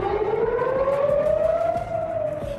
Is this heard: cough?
no